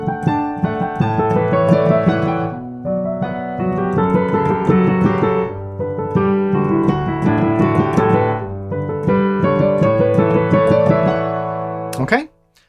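A piano plays a repeated phrase that swells louder and then falls back every bar, full chords rising and easing in steady waves, close and alone, ending with a sudden cutoff.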